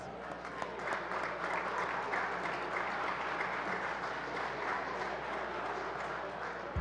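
Sustained applause from a crowd fills the Michigan House of Representatives chamber, an even wash of clapping that lasts throughout at moderate distance.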